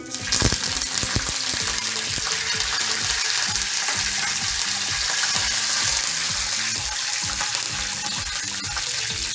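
Curry leaves crackle and sizzle in hot oil for a bitter gourd fry, a loud, dense frying hiss running throughout with a steady run of stirring taps underneath and no talking.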